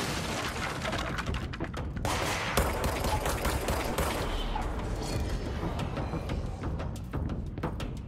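Rapid, sustained gunfire in the video game Control crackles nonstop with scattered louder shots and booms, an intense firefight with almost no talking.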